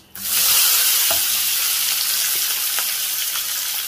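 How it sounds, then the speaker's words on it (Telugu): Onions frying in oil with curry leaves and chillies for a methi tomato curry, a loud close sizzle that starts abruptly and holds steady, with a few faint stirring clicks and no voices. "సో ఆనియన్స్ వేసి ఆనియన్స్ వేసి చక్కగా కొంచెం దీని ఫ్రై చేస్తున్నాము"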